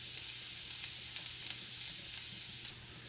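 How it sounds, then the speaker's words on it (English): Onions sizzling in a hot pan during Southern-style home cooking, a soft continuous frying hiss with faint stirring scrapes, quiet and steady throughout, no talking. "we're gonna go ahead and put some onions in here"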